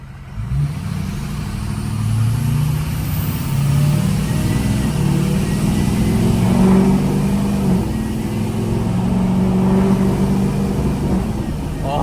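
A 6.0 engine revs through a new turbo-back exhaust, giving a loud, deep, sustained exhaust note that rises and holds close up with no talk over it.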